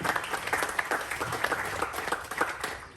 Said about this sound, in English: Round of applause, please, for Sevy's amazing volley.